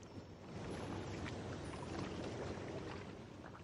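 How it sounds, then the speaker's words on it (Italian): Water washes and laps continuously at moderate distance, a soft broad rushing that swells slightly in the middle and settles again, with no voices. "il rumore dell'acqua"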